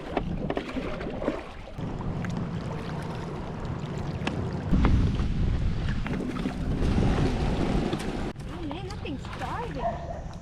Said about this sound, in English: We are paddling back to camp